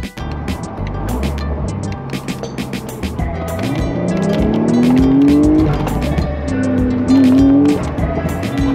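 Porsche 911 Carrera S Cabriolet (992) with PDK gearbox, engine held at high revs in high gears, a loud sustained drone with rising and falling revving sweeps and some tire noise, without talk.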